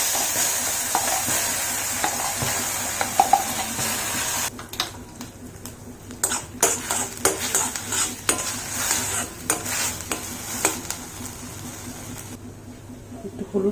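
Asafoetida and nigella seeds fry with a spice paste for a no-onion, no-garlic cabbage chutney. A steady hiss sizzles up close, and utensils scrape and clink against the pan at irregular moments.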